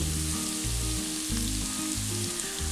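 Turmeric, coriander and chilli powders roasting in oil in a pan over low flame for a vegetable biryani, a soft continuous sizzle heard close, with a low droning hum beneath it.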